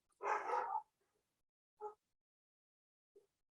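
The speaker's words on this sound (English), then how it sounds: "Dogs." Dogs barking faintly in the distance, one longer bark followed by two short, sparse yaps, the last one very soft, with silence between.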